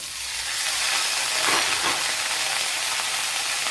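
Steady sizzling and frying in a pan with a bright hissy texture, swelling briefly midway as drumsticks are stirred and tossed, no voices.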